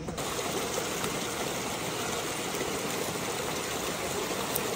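A jungle stream runs beside a riverside camp where wood is being gathered after a flood. Close, steady rushing and trickling water continues alone throughout at an even level, with no talk.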